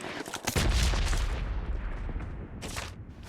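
Gunfire in the mobile battle royale game PUBG Mobile: a dense, loud burst of shots and booming blasts that fades into a rumbling tail, then a short second burst near the end, with no talking.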